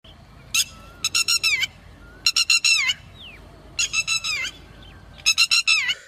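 Red-wattled lapwing calls ring out in four bursts of shrill, rapid repeated notes, each burst opening with a single sharp note, outdoors and fairly close, with no voices.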